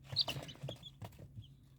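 Chickens of several breeds kept in a backyard coop, clucking in short repeated bursts close by, with small chirping calls mixed in and no talking.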